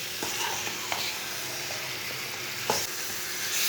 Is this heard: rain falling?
no